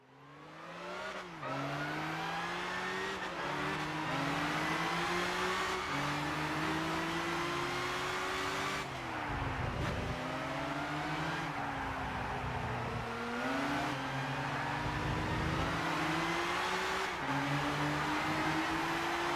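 Race cars in the Gran Turismo 6 video game roar as they accelerate, engines climbing in pitch and dropping back with each gear change, loud and continuous with no talking.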